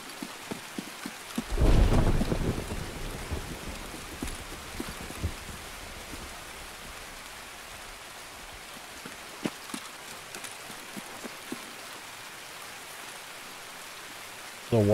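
Steady rain falls in Escape From Tarkov, a dense continuous hiss with a louder burst of spatter near the start and a few faint thuds scattered through.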